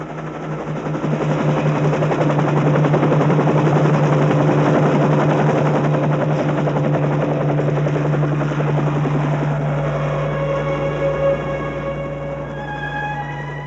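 A helicopter over Yellowstone drones steadily with a low rhythmic rotor thump, loud and sustained, slowly shifting in pitch as it passes.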